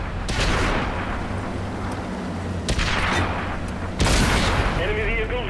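Tank gunfire in the video game World of Tanks on PS4, from a Sav m/43 tank destroyer: heavy booming shots over a constant engine rumble, with sharp blasts near the start, middle and end.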